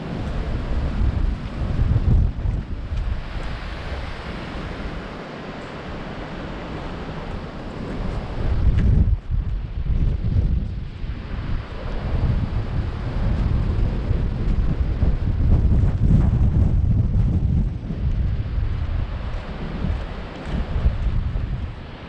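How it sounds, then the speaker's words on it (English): Strong wind buffets the microphone on an open railway viaduct walk in Cumbria, a loud continuous roar that swells and dips in gusts with no talking. "And cue the wind."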